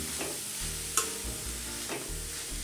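Grated carrots fry in ghee for carrot halwa, a steady sizzling hiss broken by a few scraping stirs and one sharp clack of utensil on pan, close up with no talk.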